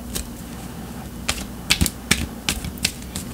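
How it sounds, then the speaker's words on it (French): Tarot cards being shuffled by hand, a series of quick crisp riffling snaps and flutters at close range, irregular bursts separated by short pauses in a quiet room. "je continue à brasser les cartes encore un petit peu"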